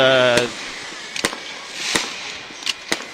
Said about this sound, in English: North Little Rock takes the field to an array of fireworks